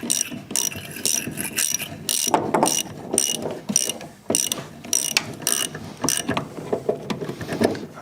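Ratchet wrench tightening a battery terminal on an abandoned Hustler 6x6 amphibious ATV, giving rapid bursts of close, crisp pawl clicks in irregular strokes with short pauses between them.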